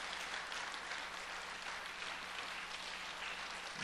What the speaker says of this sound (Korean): 우리 다 들어가실 때까지 계속해서 박수 부탁드립니다.